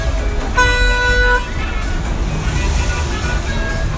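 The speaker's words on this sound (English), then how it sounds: "I don't know how much honking helps on a street like this, but it's worth a try, I guess." Car horns honk on a busy Niagara Falls street, one long steady toot standing out over dense traffic noise, with more horns sounding faintly later among the street din.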